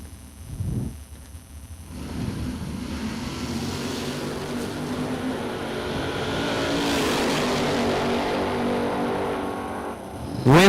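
Two drag cars, a 1956 Chevy and a Mustang, roar down the strip together, a sustained loud engine drone building in intensity and holding steady before a sharp burst at the end.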